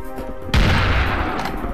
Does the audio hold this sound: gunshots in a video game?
yes